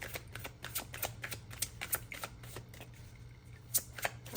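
Tarot cards are shuffled and handled, producing a rapid run of soft, crisp flicks and riffles close up at a quiet level, with no talking over them.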